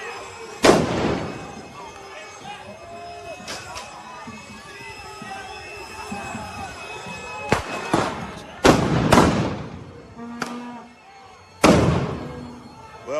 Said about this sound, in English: Here goes another flash grenade.